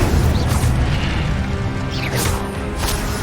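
Incendio fire spell cast in Hogwarts Legacy, a dense whooshing burst of flame with crackling bursts layered over continuous game action noise.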